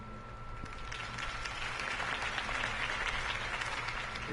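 Crowd applause in the video game Batman: The Telltale Series, a dense steady patter of many hands clapping at moderate volume throughout, without voices.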